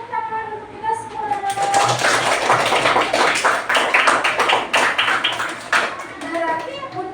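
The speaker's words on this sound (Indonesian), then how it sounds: "Beri tepuk tangan untuk kita semua." Children in a third-grade classroom clap together in a quick burst of fast, crowded handclaps, with kids' voices and chatter mixed in, close and fairly loud.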